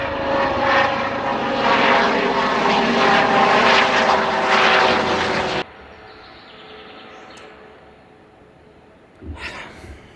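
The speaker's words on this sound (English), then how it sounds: "Let's wait for the trauma helicopter." A trauma helicopter arrives at a Nürburgring crash scene, its loud, steady rotor and engine drone filling the air before cutting off abruptly to near quiet, with a few faint knocks at the end.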